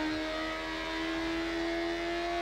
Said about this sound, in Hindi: आप इसकी आवाज़ सुन सकते हैं गाड़ी की इंजन की